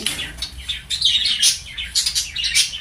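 Several small birds chirp and tweet in quick, overlapping bursts nearby, bright and continuous.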